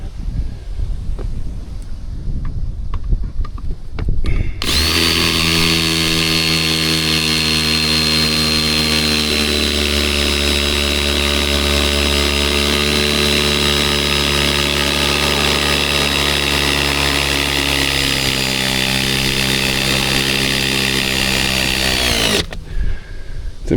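A power driver sinks long screws into retaining wall timbers, starting with a sharp kick and holding one steady, loud whining drone for nearly twenty seconds before winding down, outdoors with brief handling noise before and after.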